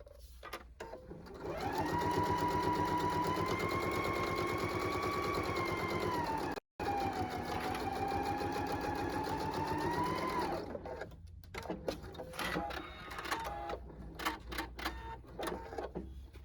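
A sewing machine stitches a boxy lace zipper bag with the needle-down position set. Its steady, close whirring hum runs for several seconds, pauses briefly, then stops, followed by scattered clicks and handling noises.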